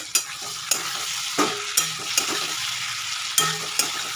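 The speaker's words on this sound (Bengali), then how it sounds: "আর দেখি টমেটোগুলো একটু নরম নরম হয়েছে, খুন্তি দিয়ে এটাকে ঘেঁটে দিতে হবে একটু।" A spatula scrapes and stirs softened tomatoes in a hot pan while potatoes cook for a Bengali papad curry: repeated rhythmic scraping strokes over a continuous sizzle, close and fairly loud, with no talking.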